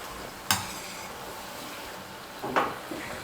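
Vadas made from flattened rice (aval) fry in hot oil with a soft, low sizzle, broken by two sharp utensil clinks about two seconds apart. There is no talking.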